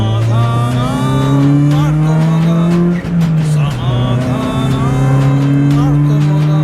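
A Mitsubishi Cedia Sport's 16-valve 2-litre petrol engine runs loud and close in a strong harmonic drone. Its pitch creeps upward, dips briefly mid-way, then settles back into a steady hum.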